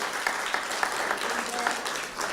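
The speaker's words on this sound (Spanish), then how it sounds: "Dale un fuerte aplauso al Rey." Congregation applauding in a church during a sermon, a dense steady patter of clapping from many hands that carries on without a break for a couple of seconds.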